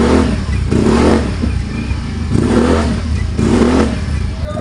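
A Yamaha Mio i 125 scooter with an upgraded CVT (pulley set, clutch lining and lighter rollers) revs loudly up close in four repeated swells, each rising and falling in roughly one-second pulses over a steady idle.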